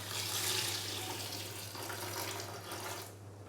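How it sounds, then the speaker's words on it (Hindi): Water poured from a container into a pot holding chicken pieces and lentils for shami kabab, a steady close rushing splash lasting about three seconds before cutting off. "अभी मैं इसके अंदर पानी डालूंगा तकरीबन 2 से 3 कप"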